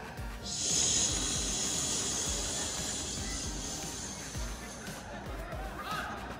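A fountain firework gives off a steady, bright hiss that swells in quickly and holds for several seconds before thinning out, over a low rumbling background with people talking faintly nearby.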